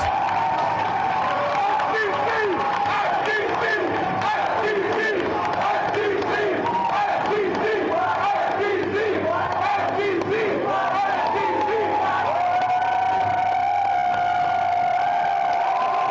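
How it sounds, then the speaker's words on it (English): A large crowd yells and cheers wildly at a trailer reveal, a dense roar of many voices with shouts rising and falling, and a whistle-like tone toward the end. "listen to them go crazy for this trailer"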